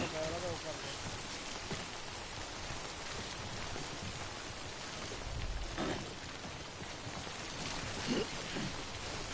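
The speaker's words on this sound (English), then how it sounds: "Don't stay out in the rain any longer than you have to." Steady rain (timefall) hisses in a video game scene, a constant broadband wash with a few soft splashes and bumps, while a voice talks faintly underneath.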